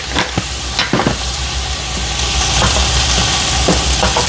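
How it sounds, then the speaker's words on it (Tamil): Fennel seeds and curry leaves sautéing in a pan for a fried fish dish give a steady close sizzle, broken by a few sharp stirring scrapes and clicks, with no one talking. "சூப்பராக நல்லா வதங்கி கொண்டு இருக்குது பாருங்க."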